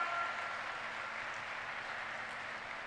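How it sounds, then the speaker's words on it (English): An audience claps steadily through a hall at a live leadership development program, a continuous, fairly soft wash of applause with a faint steady hum underneath. "Huge round of applause for our Guru Mitra."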